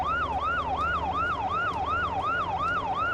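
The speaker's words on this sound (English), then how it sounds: "I hear the sirens." Police and ambulance sirens in a video game, a loud wailing tone rising and falling in a steady quick cycle over a low vehicle rumble, with no talking.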